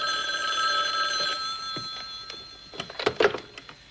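A telephone rings with a steady electronic trill for over a second, then gives way to scattered clicks and handling knocks as the receiver is picked up.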